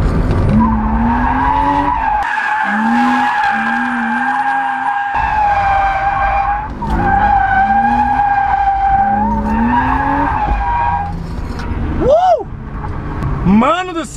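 A BMW drifting on throttle and brakes alone, tires squealing and skidding continuously over a loud revving engine, with rising and falling pitch sweeps as the car swings through slides.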